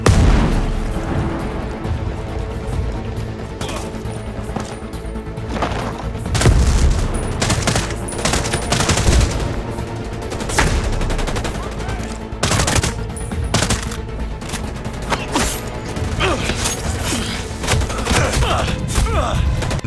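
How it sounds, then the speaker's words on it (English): Explosions, grenade blasts and gunfire from the shooter game Ghost Recon Breakpoint, with dense bursts of automatic fire and heavy booms rolling continuously, loud and close throughout. "Explosions are fantastic, they're bombastic. It's exhilarating, running from grenades going off."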